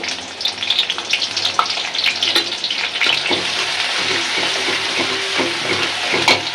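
Shrimp hit hot oil in a wok with a loud crackling sizzle, sharp spattering pops at first settling into a steady bright hiss, close up with occasional clinks of stirring.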